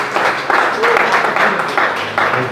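A church congregation claps in praise during a service, a steady, roughly rhythmic patter of many hands that sits under a speaking voice.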